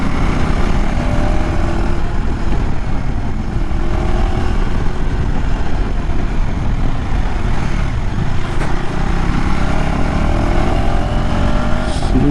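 A KTM Adventure 390X Plus motorcycle with a 46 PS engine rides off-road, its engine drone steady and continuous under heavy wind rush.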